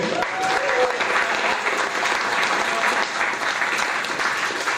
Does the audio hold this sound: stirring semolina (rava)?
no